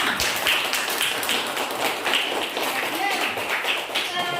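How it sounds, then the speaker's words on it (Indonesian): A classroom group claps for a student group after their presentation, a brisk run of overlapping claps and taps at moderate distance, with a voice talking over part of it. "Tolong beri aplaus atau tepuk tangan untuk kelompok 1."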